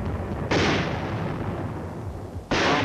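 Heavy 4.2-inch mortars fire in a continuous bombardment during the Korean War, Hill 1179: two loud, close booming blasts about two seconds apart, each decaying into a rumbling tail.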